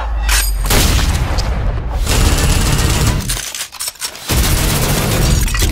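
Deep booming grenade blasts go off in the VR Fighter video game, loud and close, with a brief gap between heavy bursts.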